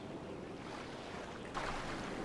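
Water sloshes and splashes steadily around a car floating in deep water in GTA V, a continuous wash of surf-like noise that swells louder for the last stretch, with no talking.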